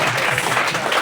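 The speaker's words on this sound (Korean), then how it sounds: "우리 프로 교수님께 다시 한번 박수 부탁드리겠습니다." A short burst of audience applause at a church book concert, dense, even clapping throughout with no pauses.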